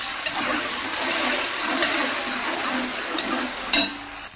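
Ginger, garlic and green chili paste frying with browned onions in a pot for chicken pulao, a steady close hissing sizzle that holds throughout, with a brief louder spatter near the end.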